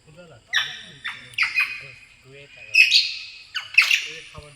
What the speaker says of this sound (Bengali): দেখো বিভিন্ন প্রজাতির পাখিও আছে এখানে